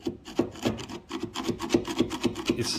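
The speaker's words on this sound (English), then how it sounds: "here's just a screwdriver and a little bit of glue that's over here, and if I do this" A screwdriver scraping back and forth across glue hardened almost like concrete, a steady rhythmic rasping of roughly ten strokes, close and fairly quiet with no talk.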